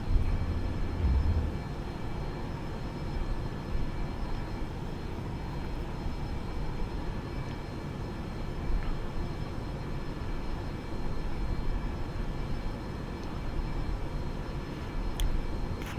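A simulated Boeing 737-800 climbing just after takeoff in X-Plane 11, its jet engines giving a steady, broad, continuous roar with a faint high whine, unchanging throughout.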